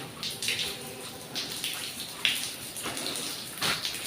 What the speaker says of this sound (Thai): เราจะมีน้ำหยดลงมาตลอดเวลาเลยครับ